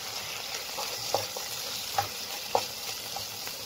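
Onion and garlic fry softly in a pan, a constant low sizzle broken by a few sharp scrapes and taps of a spoon as they are stirred, close and without talk.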